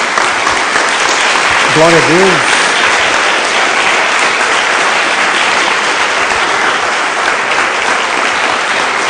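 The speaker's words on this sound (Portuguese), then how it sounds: "Dê uma salva de palmas a Jesus." Church congregation applauding during a sermon, a loud, sustained wash of clapping throughout, with a voice calling out briefly near the start.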